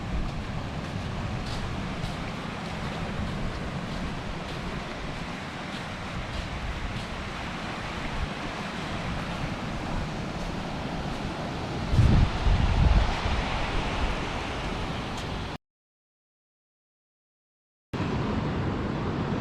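Wind and surf washing against a rocky stretch of Palolem beach in South Goa, a steady broadband roar with a brief louder gust partway through, then a short dropout before the noise resumes.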